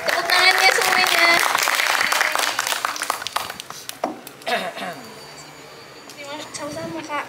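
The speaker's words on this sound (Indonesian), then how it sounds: "tepuk tangannya semuanya" Audience applause at an Indonesian community talk show, a loud dense wash of clapping for the first few seconds that thins into scattered claps and murmuring voices toward the end.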